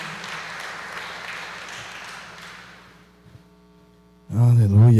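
Applause for a visitor in a church fills the room as a broad, even patter of clapping, gradually fading away over a steady electrical hum, before a loud voice cuts in at the end.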